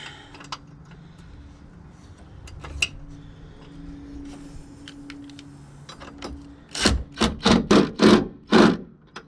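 A bolt on a Dirt King battery tray in a 2008 Nissan Frontier is tightened with a ratchet, heard as scattered metallic ticks and taps followed by a close burst of rapid, loud ratcheting clicks near the end.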